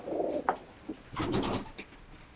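Fancy pigeons coo softly nearby in a coop, low, throaty rolling calls, two or three phrases with short pauses between them.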